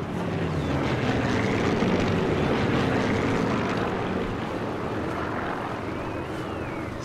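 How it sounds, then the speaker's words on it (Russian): Propeller aircraft engine drone from the video game Sniper Elite 4, a steady loud roar that holds throughout and fades only slightly toward the end, with no talk over it. "Самолет, самолет."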